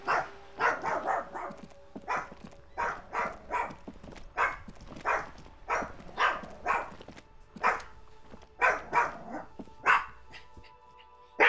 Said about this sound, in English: Cooper, stop barking.